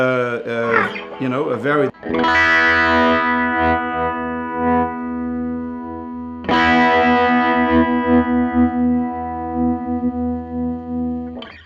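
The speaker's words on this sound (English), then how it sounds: "Basically like a phasing pedal, and that's exactly actually what it is." A Teye Coyote electric guitar with a phasing effect gives a thick, distorted tone: chords with sweeping, swirling harmonics. Two fresh strums ring out and sustain over long stretches.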